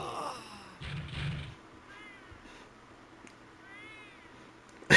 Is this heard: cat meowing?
yes